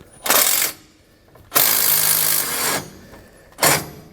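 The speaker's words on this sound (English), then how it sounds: "We can use that same 9/16 socket, and we're going to tighten up the nuts that are on our carriage bolts." A 9/16 socket wrench on an extension tightens nuts on carriage bolts while fitting SumoSprings helper springs to a 2018 Newmar Bay Star motorhome, giving three loud bursts of rapid ratcheting with short pauses between them.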